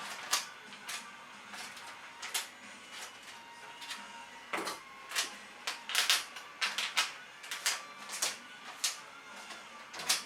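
Tape pulled and cut while making an upcycled paper portfolio, a run of close, sharp rasping rips and snips in uneven bursts, with quiet pauses between them.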